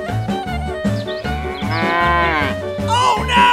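Several cows moo in overlapping, drawn-out calls, close and loud over a rhythmic musical background.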